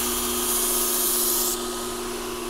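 A belt grinder lightly pressed against a laser- or plasma-cut metal edge to remove slag, giving a loud, steady abrasive hiss over a motor hum that drops a little in level partway through.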